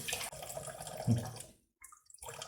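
Tap water runs from a faucet while fish is being cleaned, a moderate splashing flow with a brief thud, then a sudden cutoff to near silence before the water noise resumes.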